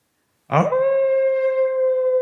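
A man imitates a wolf howl with his voice, rising from a rough onset into a long, steady, tonal wail held for nearly two seconds, loud and close with no other sound around it.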